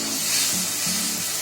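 Tomato paste, made from two tomatoes, frying for malai kofta curry, giving a steady loud close sizzle with a faint hum underneath.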